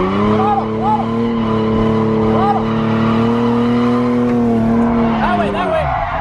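A car engine holds high revs while the tires give several short, sharp squeals as it slides through transitions; the engine note drops away near the end.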